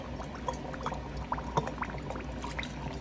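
Liquid poured through a funnel into a container for a Rio whiskey clone, a soft, quiet trickle and gurgle with small bubbling pops, close by.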